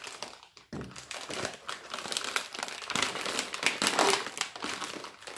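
Plastic inner bag of a 2006 US MRE ham and shrimp jambalaya being cut open, close crinkling and rustling in irregular bursts that grow louder toward the middle and then taper off.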